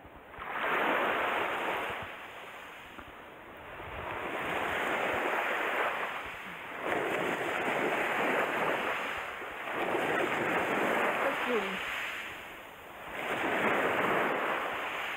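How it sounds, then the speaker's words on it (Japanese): Calm sea waves wash ashore on the Seto Inland Sea between Mihara in Hiroshima and Yuge Island, swelling and receding in a slow, steady rhythm about every three seconds, with faint wind and no voices. "波が全然静か。"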